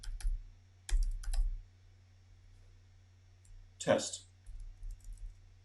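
A few short bursts of key clicks from a computer keyboard being typed on, close and fairly quiet, separated by pauses, with a person speaking briefly and a steady low hum underneath.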